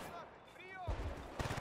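Shotgun fire in the video game Battlefield: Bad Company 2: two loud, close blasts in quick succession near the end, following a quieter stretch with faint tonal background sound.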